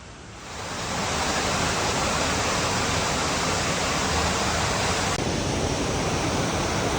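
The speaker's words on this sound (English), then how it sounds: "Waterfall" Rushing water roars steadily from a waterfall, a dense full-spectrum wash that swells in over the first second and then holds constant.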